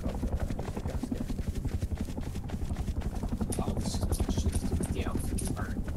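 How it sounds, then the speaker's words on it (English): A helicopter's rotor thumps in a steady, rapid pulse throughout, moderately close, with people talking over it. "I hear a helicopter."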